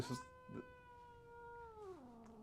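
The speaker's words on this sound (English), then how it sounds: "Bobby walks in and Nala starts growling and getting all grumpy" A house cat gives a drawn-out, wavering growl and yowl, a single long complaining sound up close that slowly falls in pitch, in an indoor room with organ hymn music in the background.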